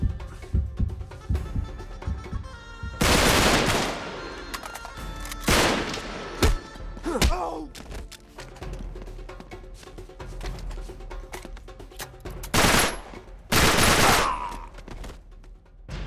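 Shotgun blasts from the video game Uncharted 3: Drake's Deception, several loud, booming shots spaced a few seconds apart over a lower background of game sound.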